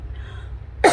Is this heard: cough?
yes